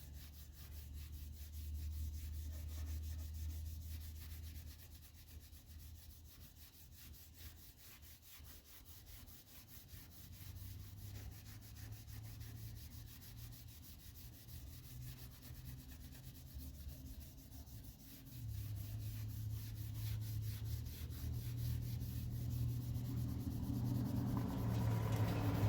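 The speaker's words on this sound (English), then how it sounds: "I'm going to start just lightly rubbing this and see if we can get that rust to go away" Steady, fairly quiet rubbing of car paint to lift light surface rust, a continuous soft scrubbing texture with a low rumble underneath that grows slightly louder toward the end; no one talks.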